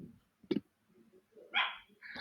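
A pet dog indoors gives several sharp, fairly faint barks, a short single yelp followed by two louder clustered barks toward the end, with no voices.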